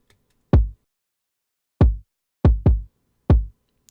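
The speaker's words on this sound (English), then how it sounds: "I'm going to listen to my kick first" Kick drum track soloed during a drum mix: five deep, punchy thumps with quick decays, spaced irregularly with two landing close together, loud and isolated against silence.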